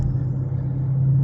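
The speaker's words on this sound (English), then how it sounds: "A lot of traffic out today" Steady low rumble of a car driving on a busy summer road, a constant engine and tyre drone heard close and even throughout the brief moment.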